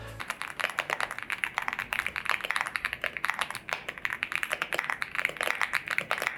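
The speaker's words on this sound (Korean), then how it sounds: "다음은 아우라 F99 독거미 키보드입니다." Fast, continuous typing on an Aula F99 mechanical keyboard with Reaper switches, in a purple and white colorway, rendered as crisp, close clacks in an irregular rapid rhythm with brief pauses, with no talking.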